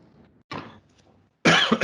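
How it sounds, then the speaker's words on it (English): A person coughs twice during a conference session on precision medicine, two harsh, close bursts separated by a brief pause, loud against a quiet room. "I'm sorry for the coughing"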